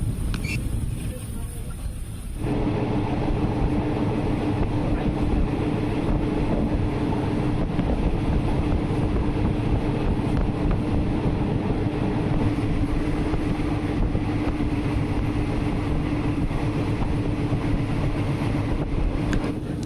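A train on the Death Railway line to Sai Yok in Thailand pulls into the Ban Kao stop, a continuous rumbling roll with wind buffeting the microphone, loud and close, after a brief quieter opening.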